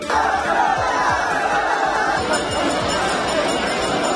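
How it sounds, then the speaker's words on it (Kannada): Devotees at the Bengaluru Karaga festival, a Draupadi devi celebration in Bengaluru's streets, cheering and chanting as a dense, steady crowd roar with overlapping shouts throughout. "ಜೈಕಾರ ಹಾಕುತ್ತಾ ಸಂಭ್ರಮಿಸಿದ ಭಕ್ತರು"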